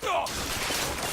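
Gunfire in the first-person shooter BioShock Infinite, a short burst of shots at the start followed by a sustained noisy game soundscape.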